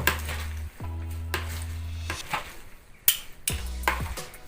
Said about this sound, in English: Mix all together.